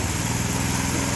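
A Predator small engine repowering a log splitter runs at low idle: a steady, loud, even putter with a continuous mechanical drone and no pauses.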